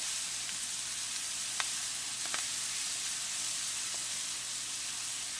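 Onions, ginger and spices sizzling in ghee for a yogurt curry: a bright, continuous hiss with a few faint clicks of stirring, close and unbroken, no voices.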